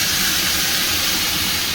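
Tomato paste sizzling in a hot pan while a vegetarian chilli paneer is cooked, giving a steady, loud hiss that fills the whole moment without pause.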